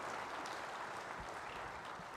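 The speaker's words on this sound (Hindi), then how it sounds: "तालियों की गड़गड़ाहट से पता चलना चाहिए कि परफॉर्मेंस कैसा लगा आपको।" Applause from an awards-show audience after a stage performance at the Hindustan Ki Shaan Award, a faint, even, continuous rush of many hands clapping, distant and unvarying for its short length.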